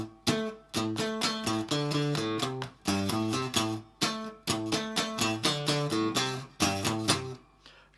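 Electric guitar playing a riff, a repeated rhythmic pattern of strummed chords and single notes with steady pulses and short breaks, loud and clear with no talking.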